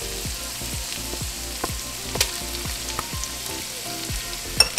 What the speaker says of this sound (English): now I'm going to add some butter